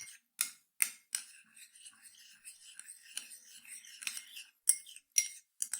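A spoon stirs and scrapes agar-agar dissolving in a little water in a small container up close, with light taps and clinks at uneven intervals.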